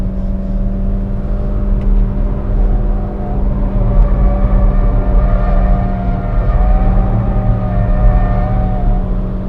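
A Skoda Fabia vRS on the move, its engine droning steadily under throttle with a rising whine from inside the cabin, road rumble beneath and no talking.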